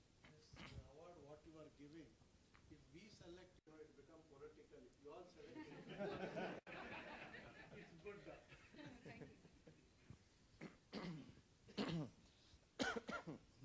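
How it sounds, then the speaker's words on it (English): Several rough coughs from a person at a management committee workshop, mixed in and around ongoing speech, with a few sharper bursts toward the end. "I have a cough developed."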